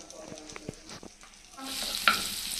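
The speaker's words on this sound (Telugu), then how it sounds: "పచ్చిమిర్చి, వెల్లుల్లి, క్యాబేజ్ తురుము స్టఫింగ్ కోసం కొంచెం ఫ్రై చేసుకోవాలి." Green chilli, garlic and shredded cabbage stuffing fry in a pan, with a soft sizzle under scattered clinks and scrapes of stirring that swell into a louder hiss near the end.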